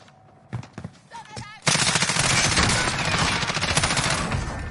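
Sustained automatic gunfire erupts loud and dense in a Warzone battle royale match, a few scattered shots first, then a continuous barrage of rapid fire, with a voice briefly heard early on.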